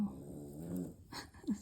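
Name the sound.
snoring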